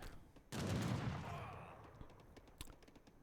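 Repelling volley in Age of Empires 3, a loud crackling fusillade of massed musket fire that bursts in sharply and then rolls and decays over a couple of seconds, with scattered battle clatter after.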